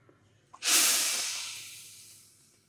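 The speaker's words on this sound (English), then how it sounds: "We got steam coming out." A steam clothes iron releases one sudden loud hiss of steam during pressing, starting sharply after a small click and slowly fading over a couple of seconds, close by with no talk.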